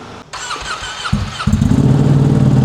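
A Ducati Streetfighter V2 motorcycle with a carbon exhaust shroud and a long muffler cranks with a whirring starter, catches, and bursts into a loud, deep, throbbing idle close by.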